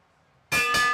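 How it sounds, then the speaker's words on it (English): A bell clangs sharply at the finish line during a Madison track cycling race at a national championship, with several loud ringing strikes from about halfway through, bright and close after quiet ambience. "They're going to hear the bell at the line."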